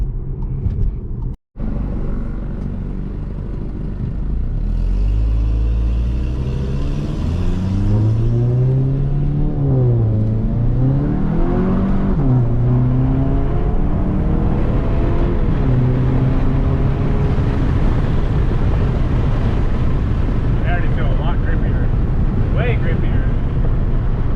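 Volkswagen MK7 GTI on wider 235 tires, driving with a steady engine hum and road rumble heard from inside the car as the engine note rises and falls, while a voice talks over it.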